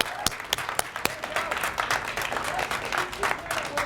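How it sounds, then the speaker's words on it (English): Applause at a university relay event: a crowd claps steadily, with a few sharp individual claps standing out early before settling into a dense, even wash of clapping, fairly close and alone without talk. "That's terrific, so round of applause."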